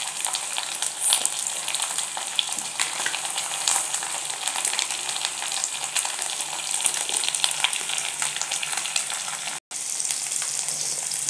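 Cashews frying in a pan with ginger and garlic give a dense, steady close sizzle with crackling pops, continuing without a break for the whole stretch and no talk.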